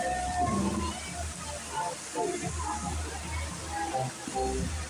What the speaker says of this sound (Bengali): কত বড় ঝর্ণা ব্যাঙের সাথে থেকে পানি পড়ছে অনেকগুলা